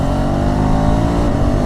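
A KTM 390 Adventure S motorcycle with its 390 engine held above 5000 RPM, giving a loud, close, steady high-revving drone with no voices over it.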